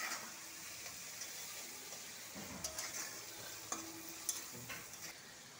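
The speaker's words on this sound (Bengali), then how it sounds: "চিংড়ি মাছটা ভাজছি।" Prawns frying in a pan with salt, turmeric and five-spice seeds, a soft steady sizzle with occasional scraping stirs, quiet and close, no voices.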